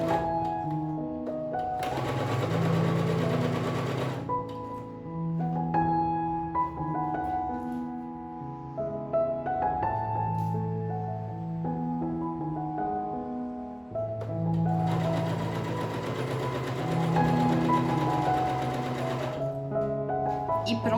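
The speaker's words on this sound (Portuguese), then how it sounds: "eu vou fazer uma costura bem rente aqui na pontinha desse tecido" A sewing machine stitches close to the edge of pillowcase fabric in two steady, whirring runs of a few seconds each, near the microphone, with someone talking between and over them.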